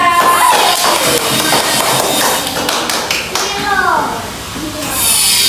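Students in a classroom clap for classmates, a burst of quick taps and claps mixed with children's voices and teacher speech over it.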